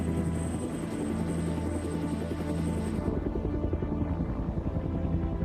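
A helicopter flies over rugged country during a large humanitarian airlift, its rotor thumping steadily and loudly throughout with a continuous engine drone and no voices.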